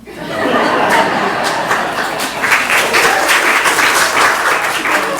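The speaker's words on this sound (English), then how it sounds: "we need to clap that one" Loud applause breaks out from a school board meeting audience after a Christmas joke, a steady run of many hands clapping mixed with chuckles and light chatter.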